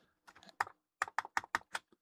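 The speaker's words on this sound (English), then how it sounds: "So on this Macintosh keyboard, Apple Control, and this is the reset button right at the top here." Keys clack on a Macintosh keyboard, a short burst of about a dozen crisp, close keystrokes in an uneven rhythm, quiet and alone.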